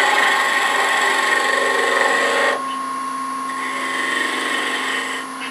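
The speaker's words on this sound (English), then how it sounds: "using that detail gouge, I'm just going to give myself a little more height on the top of the box" A detail gouge cutting the top of a wooden acorn box on a lathe, a steady close whirring cut that drops off abruptly midway, then continues more quietly, with a constant hum and no talking.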